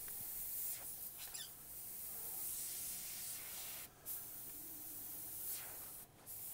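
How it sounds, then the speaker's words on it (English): Side feed airbrush spraying transparent black paint for skull detailing, a steady soft hiss running throughout with two brief pauses where the spray cuts off, close and alone. "it is a side feed airbrush, meaning that the cup is out of my line of sight"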